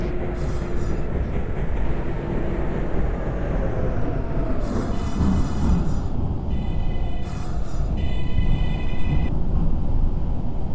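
An R160 subway train on a Queens-bound F express run in the OpenBVE train simulator, heading from Lexington Avenue–63rd Street to 21st Street. It rumbles steadily and loudly throughout, with high tonal whines and chimes rising and falling over the roar.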